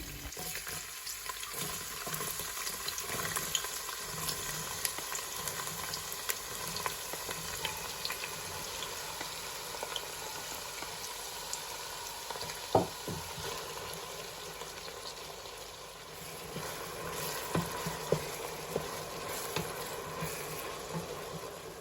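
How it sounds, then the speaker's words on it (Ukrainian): Steady, quiet sizzling of onion frying in hot oil, with a few light clinks of a utensil stirring. "викладаю у розігріту олію і обсмажую до ледь золотистого кольору"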